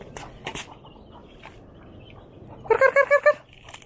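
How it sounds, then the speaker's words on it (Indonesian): Chickens being fed, with newly hatched chicks among them, cluck in a quick burst of about five near calls late on, over faint scratching and background noise. "Kita kasih makan ayam lagi."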